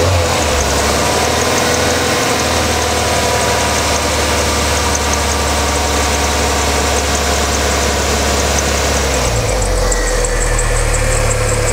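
A Ford Mustang engine runs loud and close while warming up for a lambda sensor test, a dense steady mechanical roar whose tone shifts near the end, with no voices.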